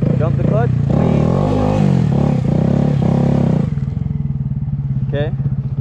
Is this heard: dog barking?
no